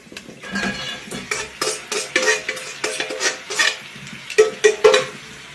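Chicken goes into a pan and is stirred, a run of close metallic scrapes and clinks from a utensil against the pan in an uneven rhythm, with faint sizzling beneath.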